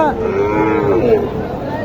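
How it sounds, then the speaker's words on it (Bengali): A native cow at a cattle market in Naogaon gives a single long, loud moo close by, steady and drawn out over a low background murmur. "দেশি গরু একটা"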